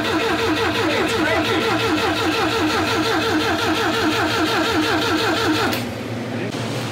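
A Volvo Amazon's B20 engine cranks with a rapid rhythmic churning for several seconds, then catches and fires, loud and close, with no exhaust fitted past the downpipe.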